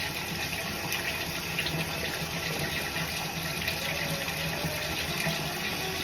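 Tap water runs steadily from a faucet into a sink while a curly 18-inch synthetic wig is wetted, a continuous close hiss and splash without pauses.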